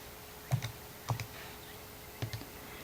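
Calculator keys tapped while entering a trigonometric equation, three short bursts of two or three quick, close clicks spaced about half a second to a second apart, crisp and near in an otherwise quiet room.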